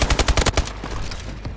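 Rapid automatic gunfire from a shooting video game played in a tournament match: a quick burst of about seven sharp, loud shots in the first half-second, followed by a quieter tail.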